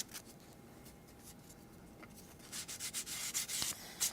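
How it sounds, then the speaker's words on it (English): Sandpaper rubbing over the edges of an upcycled tin can, quiet scraping at first, then a run of brisk, louder rasping strokes in the last second and a half. "right around here, I'm going to use my sanding paper"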